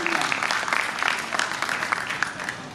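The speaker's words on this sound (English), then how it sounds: "Can we have a please round of applause for our esteemed" An audience at an Indian academic discussion event claps for esteemed alumni, a dense, moderately loud patter of many hands that continues for the whole short stretch.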